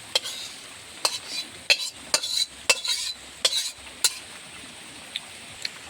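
Cooked mixed-greens curry with fish being ladled from a pot into a bowl, sharp clinks and scrapes of a spoon against metal repeating every second or so over a faint background sizzle, no talking.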